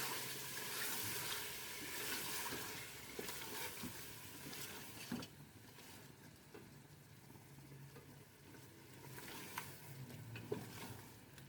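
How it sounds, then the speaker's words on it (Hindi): A spice paste is stirred into sizzling fried masala for chicken korma, steady frying hiss and soft scraping strokes carrying on throughout, fairly quiet and without talk. "इसको अच्छी तरह से मिक्स करेंगे"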